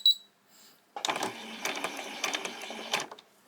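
A sewing machine stitches straight down fabric in a short burst of rapid mechanical whirring and clatter lasting a few seconds, heard close. A brief back stitch and a small click come before it.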